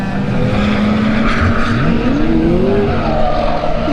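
A race car's tyres squeal as it spins out at Snetterton during a time attack event, a loud sustained screech with wavering pitch over the roaring engine.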